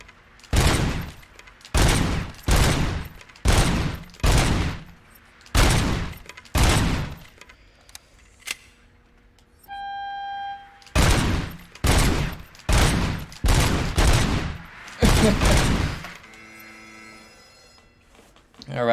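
Rapid bursts of gunfire in RoboCop: Rogue City, about a dozen sharp volleys in quick succession with short gaps, loud and close, separated by brief electronic beeps and chimes from the game.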